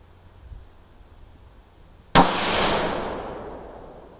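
A single sharp, loud rifle shot from a Ruger chambered in 6.5 Grendel, firing a Barnes 140 gr match load over Alliant Power Pro 2000 powder, cracks out of a quiet background and leaves a long echoing decay outdoors.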